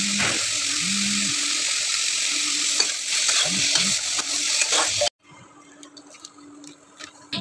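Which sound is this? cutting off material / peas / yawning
peas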